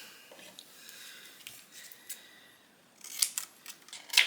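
Scissors snip through heavy 80-pound cardstock in a quiet crafting setting, with a few soft cuts early on and two louder, sharper snips near the end.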